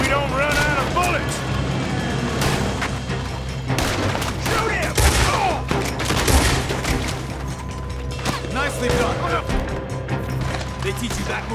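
Rapid gunfire from a shootout in Red Dead Redemption 2 on Xbox One X: dense, overlapping shots and booms over a busy game soundscape, with people talking over the fighting.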